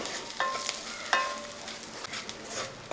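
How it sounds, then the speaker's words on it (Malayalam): Ground spices are stirred into a frying pan over low heat for a restaurant-style egg curry, with a spoon clinking twice against the pan over a steady sizzle, close and with no talk. "ഇനി ഒന്ന് ഇളക്കി കൊടുക്കുക."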